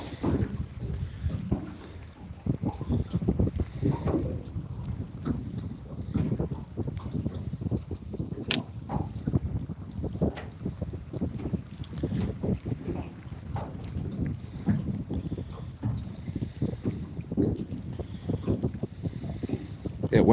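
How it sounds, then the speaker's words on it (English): Gusty wind blows outdoors near the water by Rat Island, buffeting the microphone in uneven rushes with low rumbling, a steady blustery noise lasting the whole stretch. "That wind's picking up."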